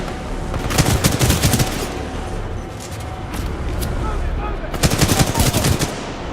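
Rapid bursts of gunfire from Titanfall 2, two loud machine-gun volleys with quieter shots and game ambience between them, under a faint voice.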